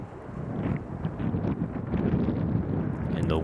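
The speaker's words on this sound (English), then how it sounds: "the wind just whipping all today" Strong, cold gusting wind buffets the microphone in a continuous low roar outdoors at a competition, rising and falling without pause.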